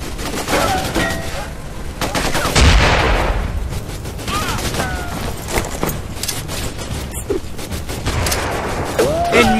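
Bursts of automatic gunfire and booming shots fill a jungle firefight in the video game Raven Squad, with rapid volleys and echoing reports continuing throughout and game voices mixed in.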